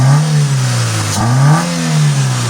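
A repaired Toyota Corolla engine revs up loudly from idle, swells, dips briefly and climbs again in a smooth, steady drone heard close with no talking.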